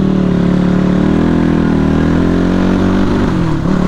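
A motorcycle on a wet, slippery road toward Godawari near Kathmandu drones loudly and steadily close by, its engine note holding level with a slight dip near the end.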